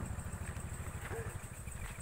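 A motorcycle engine idles steadily at a swamp during a fishing outing, a close, continuous low rumble with an even throb throughout.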